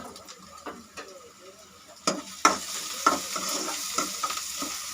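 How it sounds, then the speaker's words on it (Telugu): Onions and chopped green chillies frying in a pan for a boiled egg fry, with a soft sizzle that grows louder after the chillies drop in, plus scattered stirring scrapes and clinks of a spatula. "అండ్ ఇప్పుడు అందులోకి ఒక 2-3 పచ్చిమిరపకాయలు తీసుకొని కట్ చేసి అందులో వేసుకుందాం."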